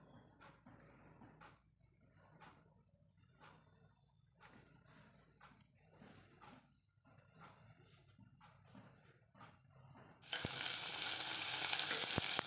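Onion and green chilli sauté in a pressure cooker after mustard seeds have popped, giving a soft steady sizzle with light stirring scrapes, then a sudden loud burst of hissing near the end.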